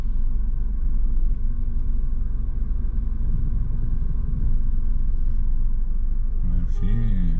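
Truck passing at a road intersection, heard from inside a waiting car as a loud, steady low rumble that holds throughout, with a voice speaking briefly near the end.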